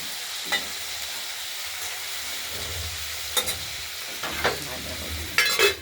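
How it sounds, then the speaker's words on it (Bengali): Potatoes frying in a pan with a steady low sizzle, broken by a few sharp scrapes and clinks of stirring, with a brief clatter near the end. "একটু নাড়াচাড়া দেবো আলুটা প্রথমে আমরা ভেজে নেব"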